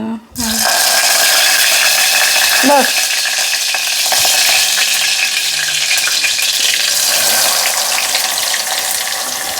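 Onions fry in oil in a pan, producing a loud, steady sizzle throughout, broken by occasional scraping as they are stirred, close to the microphone.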